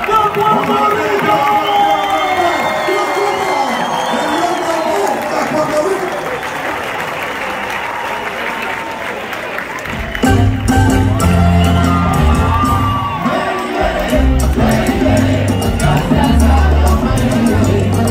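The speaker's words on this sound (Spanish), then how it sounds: "lo recibo con un fuerte aplauso" A large concert crowd applauds and cheers for a band at its 60th anniversary show in Santo Domingo, a steady roar of clapping and shouts before loud band music kicks in halfway through.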